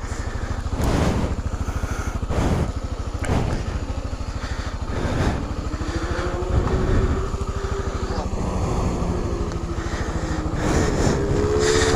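A motorcycle engine revs and labors with its wheel stuck and sinking into soft ground, a steady loud drone with surging throttle bursts, close by.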